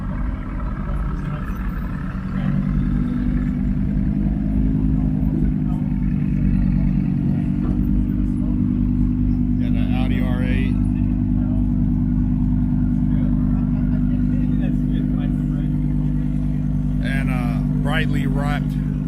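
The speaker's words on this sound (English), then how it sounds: "Mercedes AMG bi-turbo. These things are monsters." Mercedes AMG bi-turbo car cruising on a Southern California freeway, a steady loud low engine and road drone throughout with wind noise, while people talk over it.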